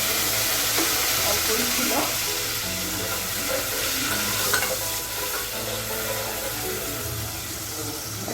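Ginger, garlic and onion paste sizzling and frying in a pan while being stirred, a continuous loud hiss with scraping stir sounds, and a voice speaking briefly over it.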